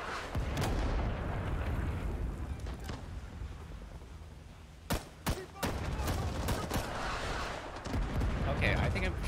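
Rising Storm 2: Vietnam firefight with a grenade blast: heavy rumbling battle noise with a cluster of sharp gunshots in the middle, overlaid by a voice.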